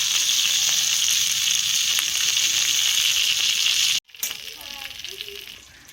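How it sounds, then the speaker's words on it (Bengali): Chicken kathi kababs fry in a pan with a loud, steady sizzle that cuts off abruptly, then comes back quieter with faint stirring. "আর 5 মিনিট ভেজে নেব আমি।"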